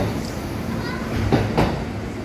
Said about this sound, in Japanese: これから京都へ向けて出発です